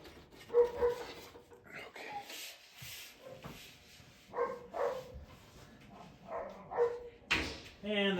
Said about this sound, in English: And the dogs are playing again.